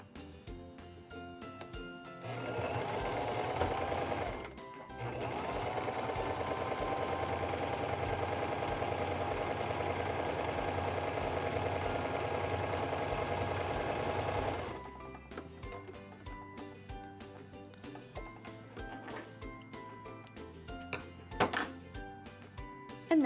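Singer 2273 Esteem II sewing machine stitching a short, wide zigzag, a steady close whirring hum with rhythmic needle ticking that runs, pauses briefly, resumes, then stops and leaves faint clicks.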